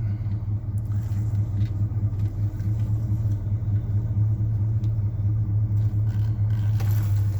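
A 1978 GMC C15 pickup truck with a camper shell idles steadily, its engine making a continuous low rumble. Faint clicks and scrapes sit over the drone, close by.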